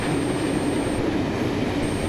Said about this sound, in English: The train is seen here at Engadine.